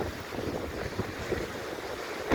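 Strong storm wind in Antalya blows steadily and roughly across the microphone, a continuous buffeting rush with small gusts, fairly quiet overall and with no voices.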